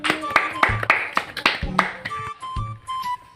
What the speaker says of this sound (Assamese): আৰু এটা হাত তালি